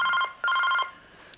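A telephone rings indoors with two clear electronic trills, each about 0.4 seconds long, separated by a short gap and fairly close.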